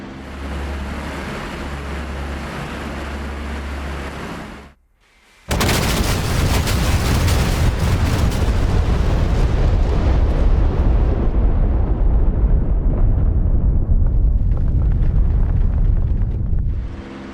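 Bombs from a group of B-17 bombers explode over a base in France in a flight video game: a steady windy roar, a brief near-silent gap, then a loud, sustained wall of rumbling blasts that rolls on and slowly thins out.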